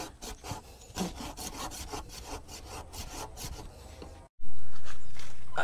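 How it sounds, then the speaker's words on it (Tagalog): A small hand saw cuts through wood in steady back-and-forth strokes, rasping and close, with no talk, ending abruptly after a short silence in a loud blast of noise. "medyo maliit ang lagari"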